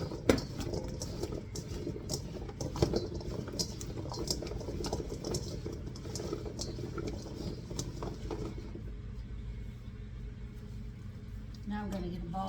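New potatoes tossed with oil in a bowl, giving a steady run of quiet, busy clicking and rattling for most of the stretch before it thins out toward a few scrapes near the end.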